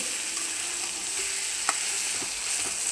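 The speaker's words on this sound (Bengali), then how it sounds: "এই যে আমি চাউলটা ভালো করে ভাজা নিচ্ছি" Rice dry-roasting in a pan, stirred steadily, giving a continuous soft crackle and scrape with a couple of brief sharper clicks, fairly close, no voices.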